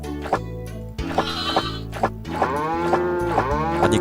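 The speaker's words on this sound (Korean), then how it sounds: "빗살무늬 젖소" A striped dairy cow in a mobile farm game gives a series of loud, drawn-out moos and bleat-like calls that follow one another closely, with short pauses between them.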